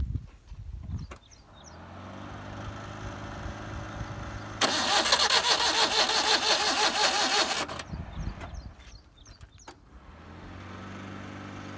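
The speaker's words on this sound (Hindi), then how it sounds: "तो देखते हैं हमारी गाड़ी स्टार्ट होती है या नहीं।" An old Maruti Suzuki 800 with a drained battery, its starter motor cranking loudly for about three seconds amid lower engine and mechanical sounds before and after.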